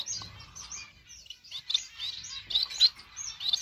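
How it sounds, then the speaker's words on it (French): A pair of society finches, also called Japanese sparrows, chirps in an outdoor aviary, giving bursts of bright, twittering calls that grow busier and louder toward the end, close by with no talking. "Voilà, un joli petit couple là de moineaux du Japon."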